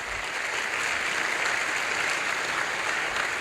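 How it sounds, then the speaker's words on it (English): Audience applause at a tech talk on decentralized social media, a steady, full wash of clapping that stays even throughout the short moment. "can we just give her a round of applause?"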